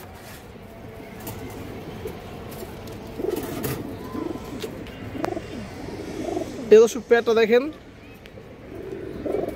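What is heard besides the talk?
pigeons cooing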